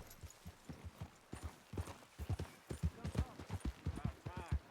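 A horse trots along in Red Dead Redemption 2, its hooves clip-clopping in a quick, steady rhythm, fairly close and clear, with faint voices mixed in.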